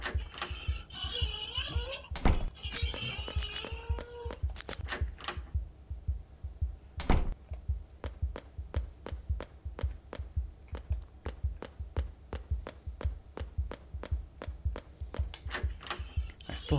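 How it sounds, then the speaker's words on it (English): Heartbeat effect in the horror game Streams of Terror: a steady, evenly spaced thumping pulse, low and soft, running alone through most of the stretch after a busier burst of game noise at the start. "I still hear that heart beating"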